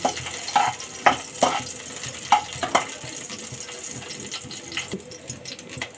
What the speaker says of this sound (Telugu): కట్ చేసి పెట్టుకున్న గ్రీన్ చిల్లీ కొంచెం ఫ్రై అయ్యాక